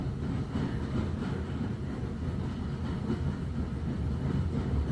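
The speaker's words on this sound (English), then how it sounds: "As you listen to the Hogwarts Express" Steady train rumble with a faint rhythmic clatter, continuous and even throughout, no voices, evoking the Hogwarts Express steam train rolling onward.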